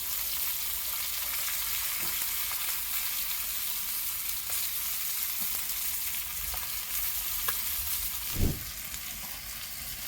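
Sardine fish frying on a tawa in coconut oil over a wood-fired stove, with a continuous bright sizzling hiss throughout and occasional soft taps and one low thump, steady and close.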